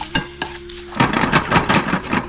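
Hing powder stirred into a hot sizzling pan for lemon rice, a few scrapes followed by a steady loud crackling fry with repeated stirring strokes, no talking.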